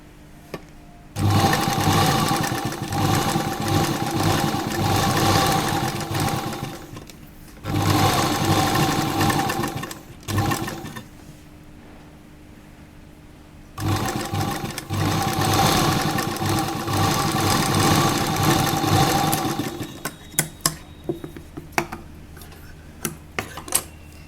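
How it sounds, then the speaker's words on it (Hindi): A sewing machine stitches along the edge of sheer, transparent kurta fabric in long, loud, close runs separated by brief pauses, with light handling clicks at the end. "ये देखिए हमने एकदम किनारे सिलाई ली है।"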